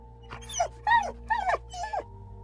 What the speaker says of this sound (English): the dog yelped.